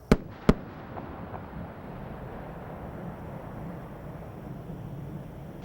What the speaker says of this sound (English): the space shuttle announces its arrival at the launch site with its signature sound of twin sonic booms